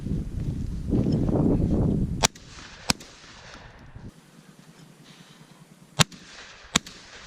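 A Beretta A300 Outlander semi-automatic shotgun fires four sharp, loud shots at an outdoor range, spaced unevenly after a stretch of rumbling noise.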